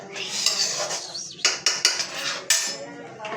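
Food being stirred and mixed in a metal pot, with scraping and several sharp clinks of a utensil against the pot's side, moderately close, no talking.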